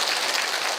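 Applause from a seated audience at a cancer survivors' talk concert fills the moment, a dense, steady wash of clapping heard alone without pause.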